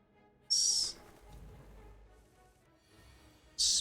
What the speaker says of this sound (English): Spooky birds.